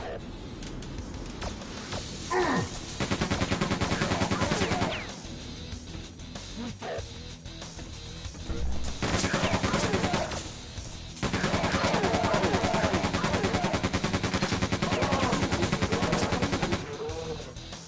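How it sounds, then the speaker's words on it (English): Machine gun fire in Quake 2 comes in long, dense, rattling bursts that are loud and close, broken by short pauses, with game noise between and a player's voice at times. "Machine gun, yes."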